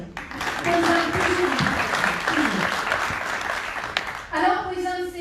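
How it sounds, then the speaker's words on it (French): An audience claps steadily at an award ceremony for a social entrepreneur prize in Tunisia. The applause is moderately loud and sustained, then fades as a voice begins speaking near the end. "vous pouvez vous applaudir."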